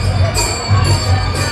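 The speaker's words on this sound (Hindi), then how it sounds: "भाई यहाँ पे भीड़ देखो गाइस" A dense crowd mills around a temple, a loud, steady babble of many voices with occasional raised shouts rising over the hum.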